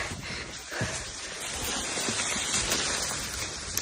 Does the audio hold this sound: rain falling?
yes